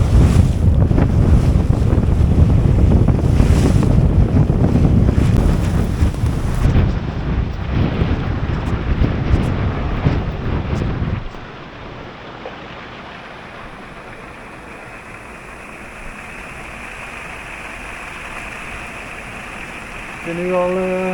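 Wind roars and waves wash around a sailboat in a rain squall at sea in the doldrums, loud gusty buffeting that eases to a calmer hiss of water partway through.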